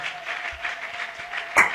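Church congregation applauding and cheering in praise of God, a steady wash of clapping with a sharp louder burst near the end.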